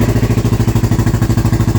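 Liquid-cooled four-stroke 700xx snowmobile engine running after starting from cold, a loud, close, steady rapid thumping idle with no voices.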